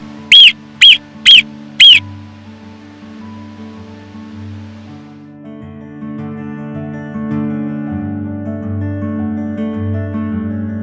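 Four shrill, piercing whistle calls from alpine animals in the Alps ring out in quick succession, followed by soft, sustained tonal music.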